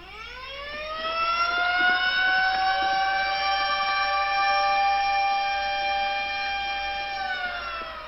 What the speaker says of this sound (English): Stop them with your siren, man! Stop them with the siren!